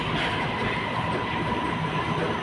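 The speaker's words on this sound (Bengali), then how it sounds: "ট্রেন অলরেডি চলে আসছে," A train pulls into a station on a Malaysian rail line with a steady, loud rumble and rolling wheel noise that fills the whole moment without pause.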